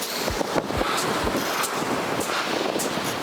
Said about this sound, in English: While at the beach, it was windy,